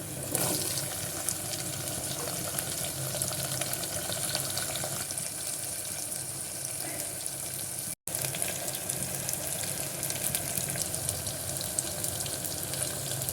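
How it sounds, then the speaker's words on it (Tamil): Small shallots and garlic sauté in hot oil in a pan with a pinch of asafoetida, making a loud, even sizzle that runs throughout, broken only by a split-second gap midway. "பூண்டு நல்லா விதங்கும் போது சின்ன வெங்காயம் சேர்த்து நல்லா வதக்கிக்கலாம்"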